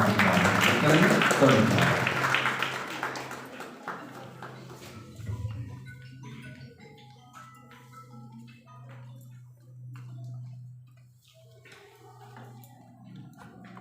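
Crowd applause fills the hall at a college retirement farewell ceremony, loud at first and then fading over a few seconds as a voice speaks and a low hum lingers.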